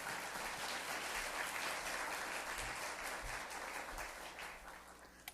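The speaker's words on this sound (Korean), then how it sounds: "우리 박수로 모시겠습니다." Audience applause greeting a speaker at a church worship service, a steady dense wash of clapping that holds for several seconds and fades slightly toward the end, with no speech over it.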